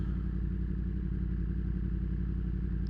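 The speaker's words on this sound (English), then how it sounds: "There's a little bit of sound of the motor just by itself without me talking over it." A 2023 Yamaha MT-10 with a Leo Vince slip-on exhaust idling, a steady loud low rumble with an even throbbing pulse, heard alone without any change in pitch.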